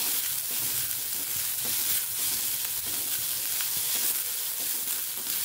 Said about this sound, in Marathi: फास्ट गॅसवरतीच भाज्या परतायच्यात आपल्याला। कांदा परतून झाला